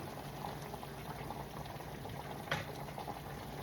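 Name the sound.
water poured into cooking pot for rice and peas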